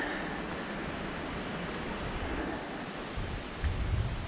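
Wind blows steadily across an exposed mountain ridge on Israel Ridge, a continuous broadband rush with gusts buffeting the microphone, loudest toward the end.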